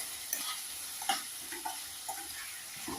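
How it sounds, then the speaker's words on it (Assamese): Fish curry with taro being stirred in a pan, a spoon scraping in soft repeated strokes over a steady close sizzle, with no voices. "এতিয়া ধুনীয়াকৈ লৰাই পেলাই"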